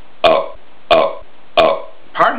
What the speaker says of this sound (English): Pardon me, I burped three times.